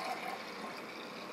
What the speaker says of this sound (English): And then we're just going to pour it into our cups.